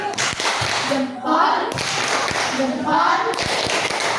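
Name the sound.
class doing the 'tepuk jempol' clapping routine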